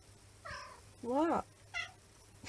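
A pet cat meows several times close by in a quiet room, short plaintive calls with one louder rising cry, while someone speaks briefly in between.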